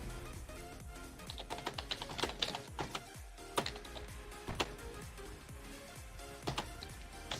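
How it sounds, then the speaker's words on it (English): A computer keyboard being typed on in quick, irregular bursts of sharp clicks, fairly close but at a modest level, with occasional louder keystrokes and brief pauses between runs. "That type's so freaking loud on his computer."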